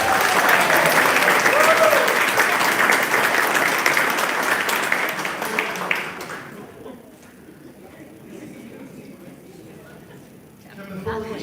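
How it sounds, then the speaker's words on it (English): Loud, sustained audience applause fills a school district retirement celebration, dense clapping that fades off after several seconds into quieter room sound, with a few scattered claps near the end. "Let's give everybody a big round of applause."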